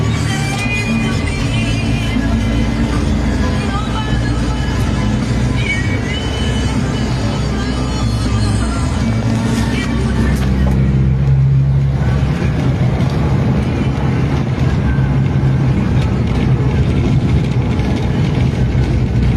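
Steady roar of car and engine traffic along a road as vehicles overtake, loud and continuous throughout, with a brief shift in the mix partway through and faint voices underneath.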